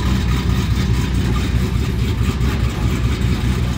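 A 1,000-horsepower all-aluminum engine in an old Plymouth runs steadily at idle with its exhaust not yet finished, a loud, rumbling low exhaust note with a slightly rough throb, close and continuous with no talking.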